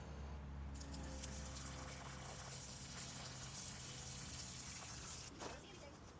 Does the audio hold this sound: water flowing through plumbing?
yes